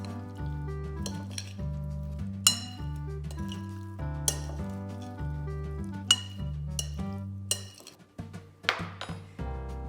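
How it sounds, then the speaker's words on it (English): Shrimp and sausage being tossed with oil in a bowl, with repeated clinks and scrapes of a utensil against the dish, close and fairly quiet, with a steady tonal hum in the background. "we're gonna give this another good stir"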